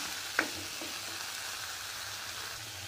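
Fried vegetables go into a pan of spiced dal masala with a single spoon knock, followed by a soft steady sizzle that continues faintly to the end.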